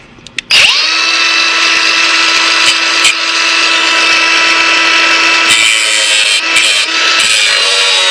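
A power tool cutting off a door hinge on a Chevy S10, starting abruptly with a loud, steady high whine that holds for several seconds with small dips and bites as it works through the metal, very close.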